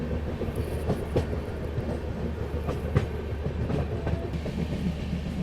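The Andhra Pradesh Sampark Kranti Express is passed during an overtake, heard from inside a moving train as a steady low rumble with faint irregular rail clicks and a couple of sharper knocks.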